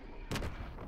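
A single sharp gunshot from Call of Duty WWII multiplayer cracks out, short and fairly faint, over a quiet game backdrop.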